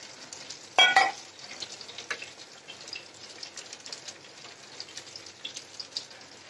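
Broth poured into frying spice paste lands with a sudden loud splash and hiss, then settles into a faint, steady bubbling crackle.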